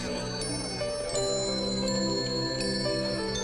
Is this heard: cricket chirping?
no